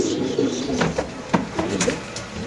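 Pigeons coo softly and close by at a pigeon seller's place, with low, rolling calls repeating over a few seconds against a busy background.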